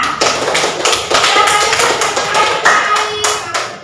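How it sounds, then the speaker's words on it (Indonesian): A group of pupils claps in an Indonesian classroom, a run of close, uneven hand claps and taps that continues steadily for several seconds. "tepuk tangan untuk kelompok jerapah"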